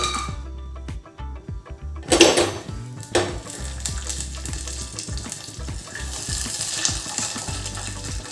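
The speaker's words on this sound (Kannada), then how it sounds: "ಈ ಪ್ಯಾನ್ಗೆ ನಾನು ಸ್ವಲ್ಪ ತುಪ್ಪನ ಹಾಕ್ಕೊಂಡು ಡ್ರೈ ಫ್ರೂಟ್ಸ್ನ ಫ್ರೈ ಮಾಡ್ಕೋತಾ ಇದ್ದೀನಿ." Dry fruits frying in ghee in a pan while making sabakki payasa, with a soft sizzle under clinks of a utensil against the pan, a brief louder clatter and scraping, and no talking.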